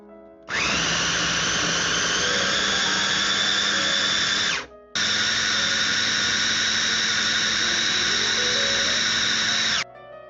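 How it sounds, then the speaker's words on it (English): An electric chopper grinding a quinoa meatball mixture with oyster sauce, halved cherry tomatoes and black pepper, running in two long loud whirring bursts with a high motor whine and a short pause between them. "then grind up everything together"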